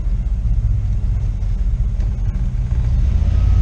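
A daily-driver car fitted with race parts rumbles steadily from inside the cabin while driving, a loud deep low engine drone building slightly toward the end, with no talking.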